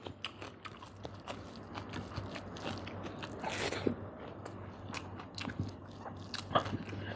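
Crunchy ghee-fried beltfish being bitten and chewed up close, with a run of sharp, crisp crunches and bites at an irregular rhythm against a quiet background hum.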